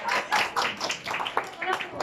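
Children clapping at a Christmas Day gathering, a loose burst of uneven claps in small clusters with some sharper hits, mixed with voices and room chatter.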